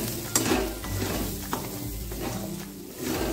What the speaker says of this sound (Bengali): ডালটাকে খুব ভালোভাবে এখানে ভেজে নিতে হবে তেলের উপর।